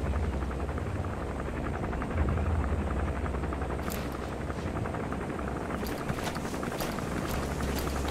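A helicopter in a video game thrums steadily overhead, a continuous rotor throb that stays loud and unchanging the whole time, with no talking.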